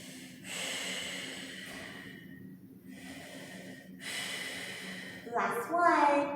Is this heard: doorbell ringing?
no